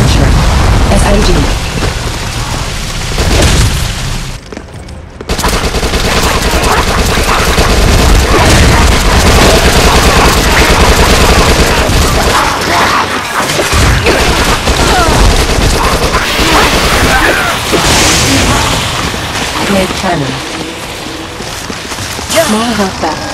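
Dead Nation combat, with dense launcher blasts and rapid SMG fire rolling into loud booming explosions, a chaotic near-constant barrage with a brief lull, while voices talk over it.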